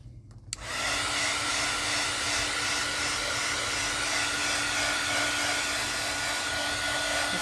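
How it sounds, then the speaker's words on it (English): A heat gun dries blue ink on a card for a northern lights background technique, switching on after a short pause into a steady loud whirring blow with a faint whine, continuous and close, no talk. "I'm just going to give it a quick shot with the heat gun"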